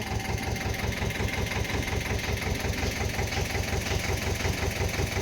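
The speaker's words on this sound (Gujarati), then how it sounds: "હાલો ટ્રેક્ટર આવ્યું છે" A farm tractor idles nearby as peanuts are unloaded, its diesel engine thrumming in a steady, rapid pulsing rhythm that stays loud and even throughout, with no voices.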